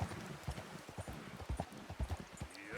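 Horse hooves clip-clop at a steady riding pace through shallow water in Red Dead Redemption 2, with close, rhythmic splashing footfalls and a faint whinny near the end.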